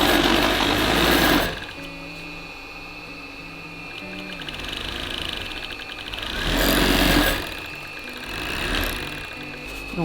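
A serger stitching elastic onto a disposable gown whirs in loud bursts, running fast, easing off to a quieter hum, then speeding up again close by, with a faint voice in the background.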